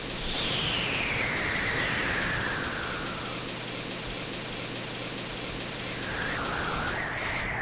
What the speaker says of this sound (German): es fängt wieder zum Regnen an